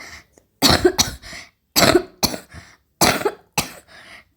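A person coughs hard and close by in three separate bouts, each made of two or three harsh, loud coughs, with short silences between them.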